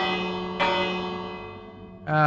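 A bell block struck in the Minecraft video game, with a loud resonant metallic ring hit twice, each strike ringing out and decaying slowly, clear and close with no voice over it.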